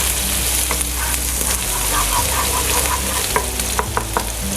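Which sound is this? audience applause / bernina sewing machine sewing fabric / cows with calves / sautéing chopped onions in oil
sautéing chopped onions in oil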